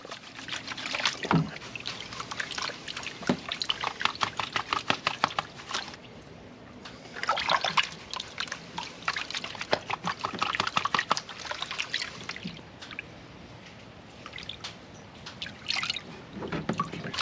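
Gold pan of pay dirt being swirled and washed in water, repeated sloshing, dripping and trickling splashes in uneven bursts close by, with no voices.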